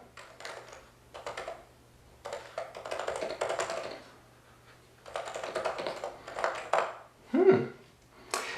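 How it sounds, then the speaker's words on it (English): Bursts of soft, muted typing on a Topre keyboard, rapid clusters of keystrokes separated by short pauses, close up, with a brief louder thump near the end. "The keys are nice and quiet, but they have a good feel to them"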